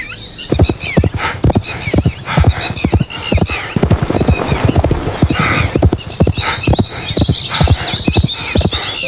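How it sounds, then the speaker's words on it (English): Donkey hooves clip-clop in a steady, brisk walking rhythm, loud and close throughout, with a brief whinny-like squeal partway through and no talking. "So the old prophet saddled his donkey and went after the man of God."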